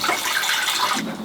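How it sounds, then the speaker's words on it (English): Water pours steadily into a pot inside a box van during winter camping, with a bright rushing splash that shifts lower in tone near the end, close and fairly loud. "Just fill up the water right here on the edge of the table."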